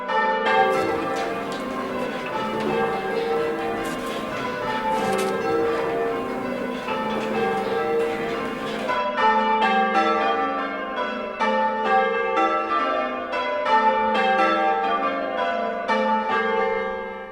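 Church bells rung in simple rounds by a team of ringers: a continuous, evenly spaced sequence of bright, ringing strikes with overlapping resonant tones, loud and close throughout, with no talking.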